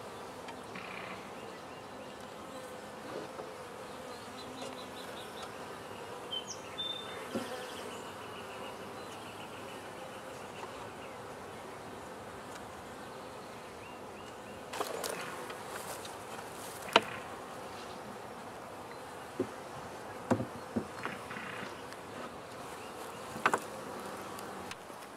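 Honey bees buzzing around a hive after moving out of a bait hive in May, a steady moderate drone throughout with a few brief louder bumps and rustles close by, no talking.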